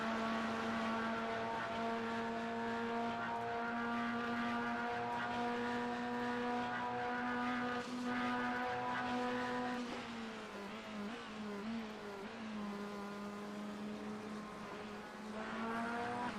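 Race car engine in the iRacing sim at Bathurst, a sustained loud harmonic drone holding steady, then the pitch drops and wavers briefly as the car changes speed before settling again.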